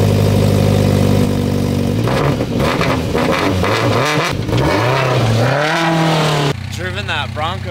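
A Ford Bronco Raptor rumbles loudly off-road over bumps, its engine droning and revving up and down, with a voice talking over the engine noise partway through.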